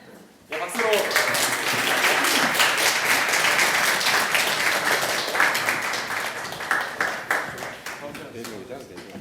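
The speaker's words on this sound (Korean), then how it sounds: "들어오시면은 박수로 맞아주시면 감사하겠습니다" A lecture-hall audience at a university career event applauds the professors as they walk in, a loud, dense burst of clapping that holds steady and then thins out toward the end.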